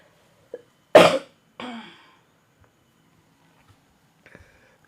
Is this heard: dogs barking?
no